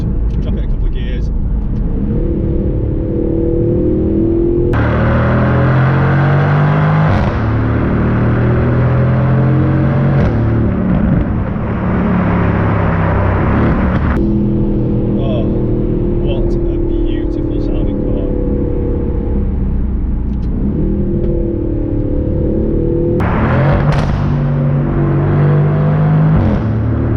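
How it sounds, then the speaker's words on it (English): A 2021 Aston Martin Vantage in track mode, dropped a couple of gears, roars through a tunnel with repeated loud revs and upshifts that echo off the walls, rising and falling in waves, close and dominant, with talk over it. "we've got a tunnel here, so I'm going to put it into track mode, drop it a couple of gears"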